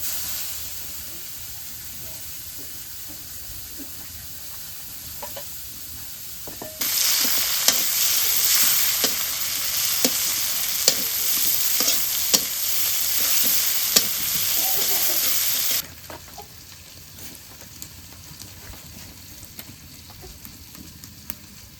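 Onion tipped onto fried fish in a hot pan in a rural Bengali kitchen, a sizzle that jumps sharply louder for several seconds with rhythmic scraping stirs, then drops back to a quieter hiss.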